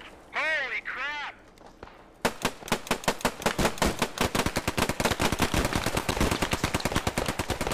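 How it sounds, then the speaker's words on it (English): Rapid automatic gunfire in a shooter video game, a dense burst of loud close shots fired in quick succession, preceded by shouting voices. "Get out and shoot them!"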